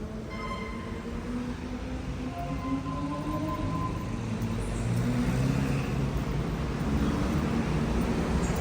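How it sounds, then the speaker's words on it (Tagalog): Heavy road traffic rumbles at a busy city intersection near Osmeña Highway during a construction period. A dense, continuous low roar of passing vehicles, with engine tones gliding up and down as they pass, and no talking. "Dito sa ilalim, napaka-traffic niyan, lalo na pag rush hour."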